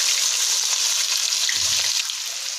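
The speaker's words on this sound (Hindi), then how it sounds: "बारीक कटी हुई प्याज ऐड कर देंगे।" Finely chopped onions frying in oil with roasted cumin, a steady close sizzle with a brief low thump partway through.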